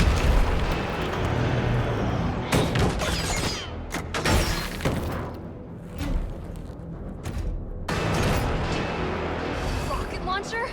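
Rocket launcher explosions in a video game rumble as a string of loud booms and crashing blasts, and a voice talks over the dense, continuous din.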